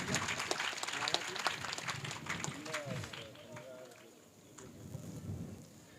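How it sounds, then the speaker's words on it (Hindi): At a Bhagavat katha, a crowd breaks into applause, a dense patter that is strongest at first, thins out, then returns faintly, with voices talking over and through it. "इसके लिए एक बार फिर जोरदार तालियां"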